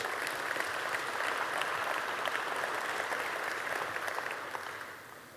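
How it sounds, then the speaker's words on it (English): A keynote audience at Pizza Expo gives a steady round of applause for Willie Owens, a fairly distant patter of many hands that tapers off at the end. "let's give a round of applause to Willie Owens."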